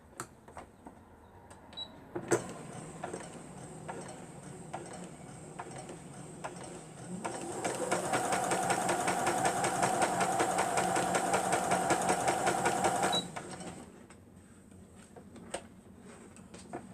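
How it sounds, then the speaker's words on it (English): A home sewing machine stitching fabric scraps: a few short ticking bursts, then a steady fast-running stitch lasting about six seconds, close and fairly loud, settling back to intermittent clicks. "let me sew it at an angle here"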